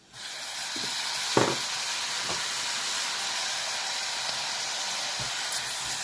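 Chopped tomatoes hit a hot pan of spiced masala for a Telugu bottle gourd and chana dal curry, giving a steady close hiss and sizzle that lasts throughout, with a few soft clinks of stirring.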